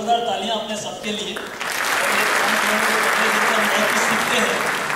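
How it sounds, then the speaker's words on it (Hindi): Loud audience applause breaks out and fills the room at a business compensation plan seminar, steady and sustained after a brief spoken introduction. "जोरदार तालियां अपने सबके लिए।"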